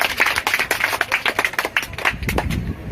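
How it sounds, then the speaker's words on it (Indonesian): Children clapping hands together in a village classroom: a quick run of brisk, close claps in a steady patter lasting a few seconds, fairly loud and without speech. "Tepuk tangan dulu."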